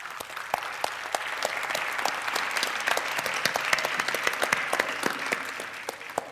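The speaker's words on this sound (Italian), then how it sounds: "Angelo Raffaele Meo, che il pubblico di Giovedì Scienza conosce bene e che merita un grande applauso." An audience applauds after a presenter introduces a guest at a Giovedì Scienza public science talk: steady, dense clapping with no voices, moderately faint and fairly even throughout.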